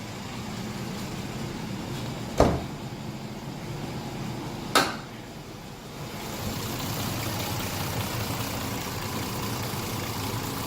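A 2004 Dodge Durango's Magnum 4.7 liter V8 engine idles under the hood, a steady low rumble heard up close, broken by two brief sharp clicks or knocks partway through.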